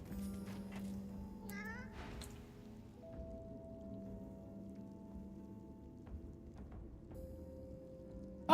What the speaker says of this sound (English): Celery, there's a skeleton cat over here. A skeletal cat